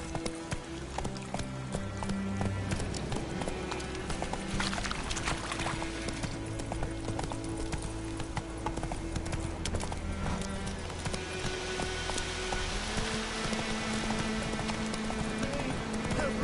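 Hooves of Roach, a horse in a video game, clip-clopping in a steady rhythm throughout, with game music playing underneath.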